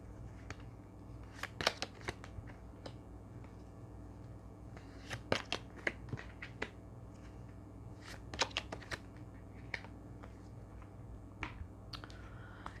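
Playing cards gathered and shuffled by hand in a French-speaking group session, a series of sharp, crisp riffling bursts at irregular intervals over a steady low room hum.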